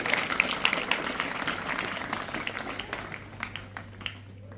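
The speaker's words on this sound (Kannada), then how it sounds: "ಜೋರಾಗಿ ಚಪ್ಪಾಳೆ ತಟ್ಟುವುದರ ಮೂಲಕ ಅವರಿಗೆ ಸ್ವಾಗತ ಸುಸ್ವಾಗತವನ್ನ ಕೋರುತ್ತೇವೆ" A school audience claps in welcome for arriving guests, a scattered, moderately loud burst of hand claps that thins out and fades over a few seconds, with a low steady hum underneath.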